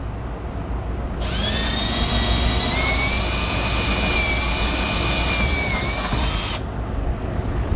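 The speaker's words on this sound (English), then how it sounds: "I will take a small drill bit and drill a pilot hole." A power drill with a small bit boring a pilot hole while installing a D-ring tie-down anchor: a loud, steady, high-pitched whine starts after about a second, holds for roughly five seconds, then stops abruptly.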